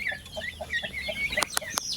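Caged turkeys, a flock of about 32, make a steady run of soft repeated peeping calls and clucks, joined near the end by a few sharper, louder calls, all close by with no talking.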